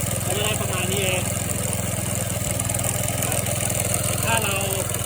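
Small petrol engine of a remote-controlled lawn mower running steadily at close range, a continuous idling drone with a charging alternator, while someone talks over it.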